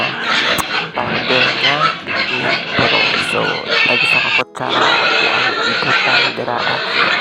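Pigs squeal and grunt loudly and continuously at feeding time as they are fed a feed mixed with vitamins, a dense chaotic chorus close by that barely pauses.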